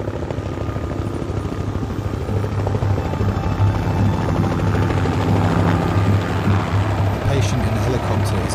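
A medical helicopter's steady rotor thump and engine drone fill the scene, loud and continuous, with the throbbing beat holding throughout.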